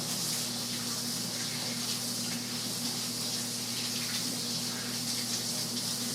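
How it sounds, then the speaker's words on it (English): Hands are washed under a running kitchen tap, a continuous close rush of water that stays even and fairly loud from start to finish, over a faint steady hum. "I'm trying to wash my hands off so they won't look quite so dirty."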